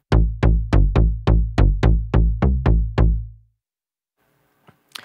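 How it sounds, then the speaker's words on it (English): Logic Pro Retro Synth heavy punch bass preset playing ten evenly spaced, loud, punchy low notes with fast decay, followed by silence and a few faint clicks. "Maybe let's go for this heavy punch bass."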